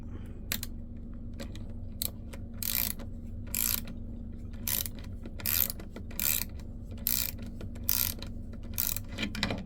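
A VIM dual drive flex ratcheting wrench loosens a fastener, its ratchet clicking in about ten regular bursts over a low background hum.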